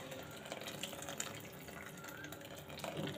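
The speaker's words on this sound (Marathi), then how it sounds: "मी थोडंसं पाणी जास्त घातलं आहे" Water is poured into a cooking pot for rasam, a continuous soft splashing and gushing pour at close range with no talking.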